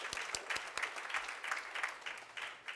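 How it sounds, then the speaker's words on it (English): Applause for the Vice Chancellor at a university portal launch: a crowd claps steadily and continuously, with the sound near and even throughout. "I request that we give a big round of applause to our Vice Chancellor"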